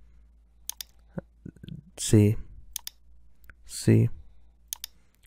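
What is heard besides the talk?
mouse clicks in vMix software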